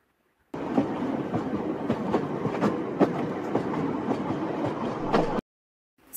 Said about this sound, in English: Yes, this was the sound of a train.